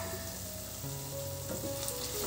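Chicken coated in ground masala sizzles in a frying pan over a low flame while being stirred, a steady soft hiss with faint scraping, close and continuous.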